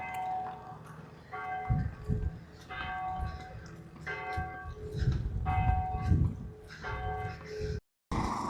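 A temple bell in Jaffna rings in slow repeated strokes, each a resonant metallic clang with a lingering hum, heard at moderate distance among outdoor ambience.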